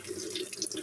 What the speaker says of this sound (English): You want to get the water going.